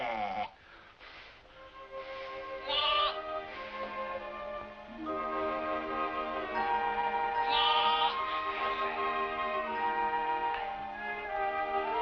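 Sheep bleat repeatedly in a classic Western film, several overlapping calls rising and falling, fairly close and loud, with no talking.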